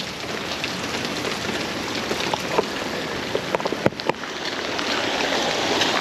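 Steady heavy rain patters on water and foliage beside a creek flooded by heavy rain, a dense even hiss with a few scattered louder drips and knocks close by.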